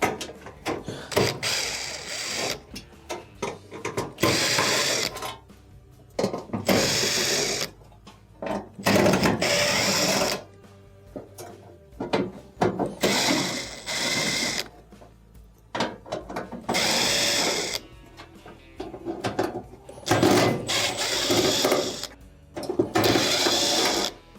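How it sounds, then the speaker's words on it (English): A power driver whirs in short, repeated bursts while removing screws from the top panel of a gas range, each burst a buzzing, ratcheting run separated by brief quiet gaps, close and loud. "Next, we need to remove these 10 screws that are holding on the top."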